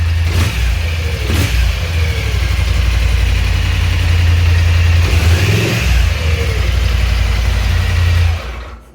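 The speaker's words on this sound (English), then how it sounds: "you give it some throttle, and the CV system engages and starts spinning the belt. It gets even louder" Polaris Sportsman Highlifter 1000 ATV engine revving under throttle, a loud continuous low drone with rising and falling surges as the CVT belt engages, close up and alone, cutting off at the end.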